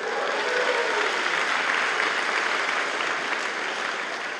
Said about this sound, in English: give Thais the biggest, most raucous thank you and cheer